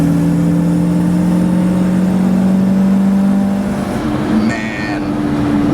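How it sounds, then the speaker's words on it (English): V8 engine of a mid-year Corvette C2 with a four-barrel carburetor, a steady close droning hum with a low engine tone that shifts slightly as the throttle opens near the end, heard from inside the car. "I love the V8 sound, the induction sound, the secondary sound. Listen to that when the throttle opens,"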